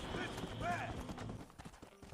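Horse hooves clip-clop in Red Dead Redemption while a rider carries a kidnapped captive, a steady close gait under in-game ambient sound, with a brief whinny-like tone early on.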